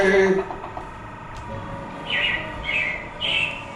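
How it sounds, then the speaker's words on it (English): Robins chirp in short bright bursts near the end of the stretch, coming through a busy indoor ride scene with a steady background wash and a brief voice early on. "it looks like the Robins are getting ready to celebrate Valentine's Day today"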